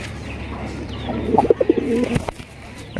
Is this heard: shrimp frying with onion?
no